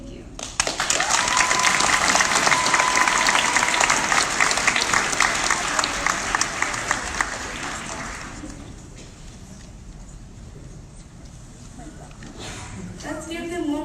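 Audience at a pitch night event applauding, a loud dense wash of clapping for about eight seconds that then fades, with a voice talking over it.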